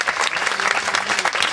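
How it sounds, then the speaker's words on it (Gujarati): A crowd applauding at a gathering honouring pilgrims on a foot pilgrimage, dense steady clapping from many hands, close and loud throughout. "તાળીઓના ગડગડાટથી વધાવજો."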